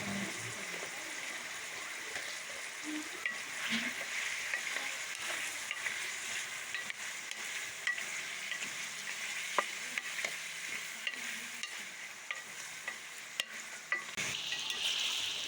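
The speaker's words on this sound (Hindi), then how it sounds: "आलू और चिकन को अच्छी तरह से हमने फ्राई कर लिया है" Potatoes and chicken for a junglee pulao frying in a pot, a continuous close sizzle with stirring clatter and occasional spoon knocks, with no talking.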